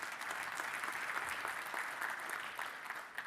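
Steady applause from a seated audience at a leadership talk, dense continuous clapping with no gaps and no talk over it.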